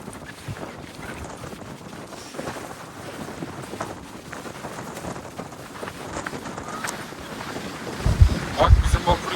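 A ferry churning through open water near Kilitbahir, with steady engine and wave rumble buffeted by strong wind against the microphone, growing louder near the end.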